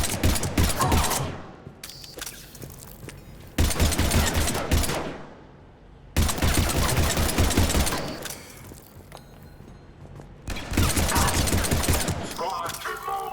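Automatic gunfire in the video game Mass Effect 3: loud, sustained bursts of rapid shots in several long volleys separated by short lulls, with game voices and background sounds between them.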